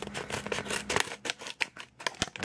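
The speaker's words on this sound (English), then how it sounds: "It shouldn't be that hard with the scissors." Scissors snip and crunch through a plastic card blister pack in a close, quick series of sharp cuts and crackles, with no one talking.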